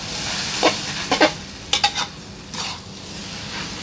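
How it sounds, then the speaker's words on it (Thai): Thin rice noodles tossed into a hot pan for a pork stir-fry, with a steady background sizzle broken by several close, sharp scrapes and clinks of a utensil against the pan in quick bursts. "ผมก็จะเอาเส้นลงไป เส้นไว้ผัดเลย"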